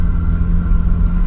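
A stripped-down, boxy Volkswagen Gol driving along with a strange noise, heard as a loud, steady low engine rumble and drone from inside the car, with no speech.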